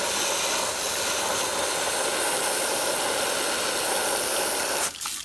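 Continuous rushing hiss of water pouring into and filling a Hayward Pro Grid DE pool filter element, steady and fairly loud, ending with a brief clunk.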